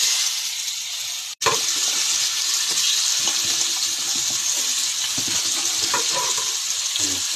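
Cumin seeds crackle and sizzle in hot oil in a pan, a loud continuous hiss after a brief silent break, with light stirring noises beneath.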